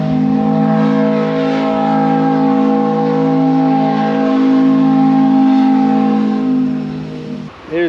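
Frankenmuth Steamboat on the river sounding its steam whistle, a loud, steady multi-tone chord held for nearly eight seconds before cutting off briefly at the end.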